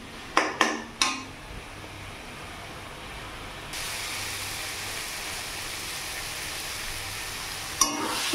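Masala for a lote (Bombay duck) fish curry sautés in a pan, opening with a few sharp spatula taps, then a steady close sizzling hiss that grows louder partway through, ending with another scrape.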